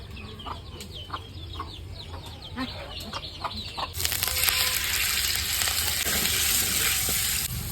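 Egg with turmeric, chili powder and salt frying in oil in a village kitchen, a dense steady sizzle rising after a quieter stretch, with hens clucking in the background.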